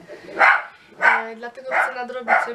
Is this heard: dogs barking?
yes